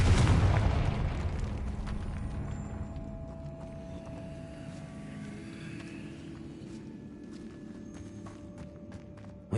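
A Confringo fire spell blasts in Hogwarts Legacy: a loud burst opens the sound, then a long crackling, rumbling decay fades under scattered light clicks and small impacts.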